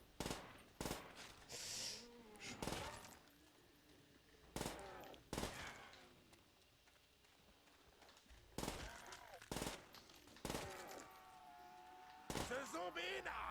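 Light machine gun in Call of Duty: World at War zombies mode on the Shi no Numa map, firing repeated bursts of loud, sharp gunfire at varying intervals with other game sounds and talking in between.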